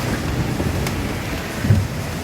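Strong wind gusting over open water while sailing along a long beach coastline, a steady broadband roar buffeting the microphone with a brief heavier gust near the end, no voices.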